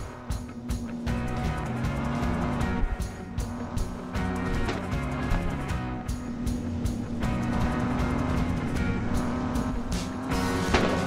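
A racing video game car engine revs and accelerates in a loud, buzzing whine with rapid gear-shift surges and fluctuating pitch, joined by game music and effects, continuous over about eleven seconds.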